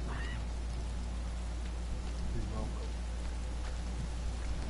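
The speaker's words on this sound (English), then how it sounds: "Oh, it's raining." Steady rain falling in the survival video game The Forest, a continuous soft hiss of drops spread evenly across the whole stretch, with a low constant rumble beneath and a few faint voice-like sounds mixed in.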